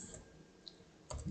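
A few faint, soft keystrokes tap on a computer keyboard as a command is typed in quiet surroundings.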